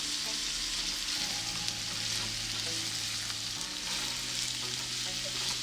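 Hilsa fish pieces frying with spices and salt in a pan for a fuluri ilish recipe, a steady close sizzle with occasional stirring scrapes throughout; no talking.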